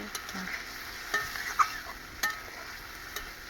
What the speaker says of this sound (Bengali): এবারে জল দিয়ে দিই বেশি জল দেবো না হালকা করে